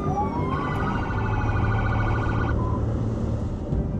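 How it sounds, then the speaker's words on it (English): A police car siren wails continuously in rapid up-and-down cycles, loud and close over a steady engine and road rumble, as the vehicle drives to a call with lights and sirens; no talk is heard. "So essentially that means lights and sirens."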